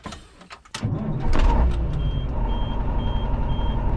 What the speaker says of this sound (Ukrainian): І далі запускаємо двигун автомобіля.